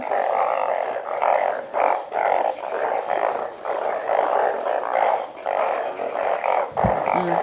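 Banded bullfrogs croaking loudly in a dense chorus, repeated pulsing calls overlapping in a steady rhythm, close and strong throughout with no talking.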